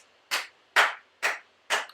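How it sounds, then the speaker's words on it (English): Four evenly spaced single claps land about half a second apart, each crisp, close and alone against silence, in a slow, deliberate golf-clap rhythm. "Slow golf clap for you."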